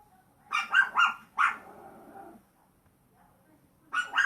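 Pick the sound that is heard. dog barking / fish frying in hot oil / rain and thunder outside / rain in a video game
dog barking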